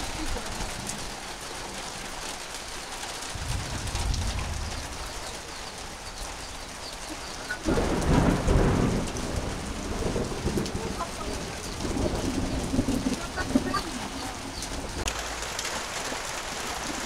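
Steady rain falling during a storm, with low rumbles of thunder rolling in at intervals over the continuous patter.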